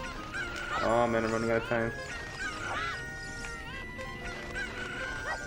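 Cuccos, the chickens of a Zelda video game, squawk in repeated harmonic honking cries over steady game music while someone talks throughout.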